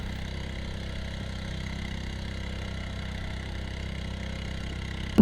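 A motorboat engine on a rocky, fast-flowing river drones continuously at low pitch, loud and close, with no other sounds above it until a brief knock at the very end.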